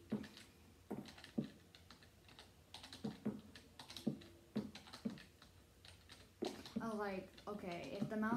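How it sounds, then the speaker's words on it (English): Computer keyboard keys clatter in uneven bursts while Minecraft is played without a mouse, sharp close clicks with pauses between them, and a voice talks near the end. "You're gonna hear a lot of keyboard."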